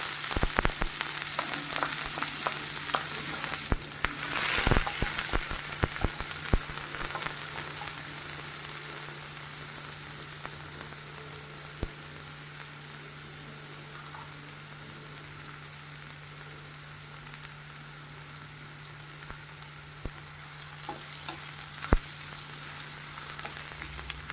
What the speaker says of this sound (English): I've added oil to this in order to saute the onion.